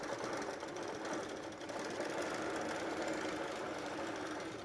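Home sewing machine stitching out a 3D quilt block design, a steady, fast mechanical whir and rapid needle chatter running continuously and close up with no pauses.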